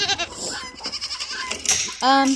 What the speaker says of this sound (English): And Claire, our most mischievous goat right there.